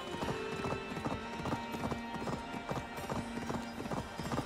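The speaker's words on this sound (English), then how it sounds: "In Assassin's Creed Valhalla, you can ride a horse, but not actually control the horse." Horse hooves clip-clop at a steady walking rhythm in the video game Assassin's Creed Valhalla, close and continuous under a faint low game hum.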